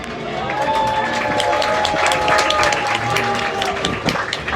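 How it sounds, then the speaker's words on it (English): Audience clapping and cheering at a dolphin show at a Florida marine park, a continuous burst of applause lasting several seconds with crowd noise and some tonal sounds mixed in. "Let's give a big round of applause to Paisley"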